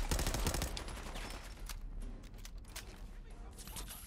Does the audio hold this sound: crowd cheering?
no